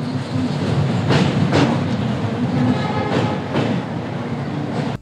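Vistadome coach tourist train 15777 from New Jalpaiguri to Alipurduar rumbles along with rhythmic clacks of wheels over rail joints and a steady low drone, fairly loud and close, cutting off abruptly at the end.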